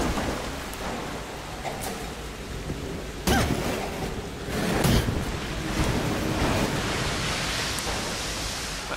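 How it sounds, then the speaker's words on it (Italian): Water pours steadily down inside a Tomb Raider game level, a constant rushing hiss that holds across the whole stretch, with a couple of brief louder splashes partway through. "Continua a scendere l'acqua."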